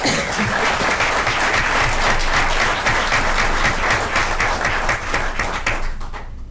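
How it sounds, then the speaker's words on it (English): Audience applause at a school board meeting for sixth-grade students of the month, dense steady clapping from a large room that holds for about six seconds before fading at the end. "Let's give our students another round of applause"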